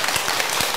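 Audience applause at a Buddhist dharma lecture on the Diamond Sutra, a steady dense patter of many hands clapping throughout the brief moment, fairly loud with no voices.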